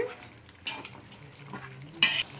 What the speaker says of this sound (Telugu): సో చికెన్ బాగా కలుపుకోవాలి.